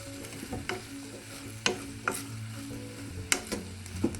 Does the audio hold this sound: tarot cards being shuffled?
no